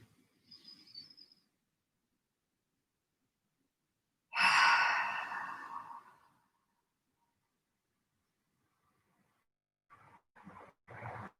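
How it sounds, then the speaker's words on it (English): A long, slow breath let out through an open mouth during a live movement class, a soft airy rush swelling then fading over a couple of seconds, with quieter breaths before and after in a hushed room. "Open the mouth. Slowly exhale out."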